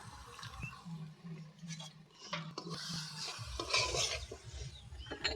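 Stirring through chilli paste, coriander and turmeric powder for a jackfruit and prawn curry gives soft scrapes and gentle sizzling, then water is poured in and splashes loudly near the end, with no one speaking.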